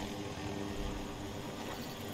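A helicopter in a combat video game gives a steady, droning whir of rotor and engine noise, faint and constant with no talk.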